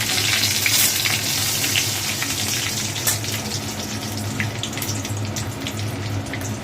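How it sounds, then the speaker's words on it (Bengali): Bay leaf and fennel seeds crackle in hot oil as a tempering, a steady close sizzle with scattered sharp pops and no voices. "তেলটা গরম হলে পরে আমি তেজপাতা আর মৌরিটা ফোড়ন দেবো।"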